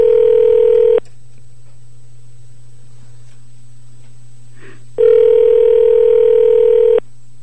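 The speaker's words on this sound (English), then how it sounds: "Answer the phone." A telephone dial tone sounds during a phone call as two steady, loud, continuous tone bursts about a second and two seconds long, separated by a near-silent gap with a faint low hum.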